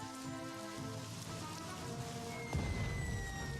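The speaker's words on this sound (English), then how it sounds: "Oh, and now it's raining." Steady rain falls across a battlefield in the strategy game Strategic Mind: Fight for Freedom, a dense even hiss under music, with a low rumble joining partway through.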